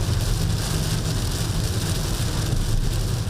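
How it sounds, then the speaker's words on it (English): Heavy downpour during a black rainstorm in Hong Kong, a dense, steady roar of rain hitting surfaces with a low rumbling undertone, loud and continuous throughout with no voices. "lashed by heavy downpours and flooding"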